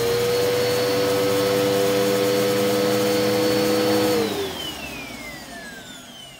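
A Bissell PowerForce Bagless Turbo upright vacuum cleaner runs loud and steady with a droning motor hum and whine, then powers down after about four seconds, its pitch sliding away as the motor spins down.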